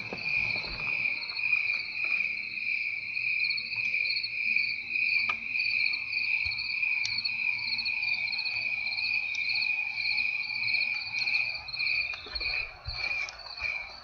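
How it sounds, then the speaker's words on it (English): A dense chorus of crickets trills continuously, steady high-pitched chirping from many insects with no other sound. "A complete chorus of crickets."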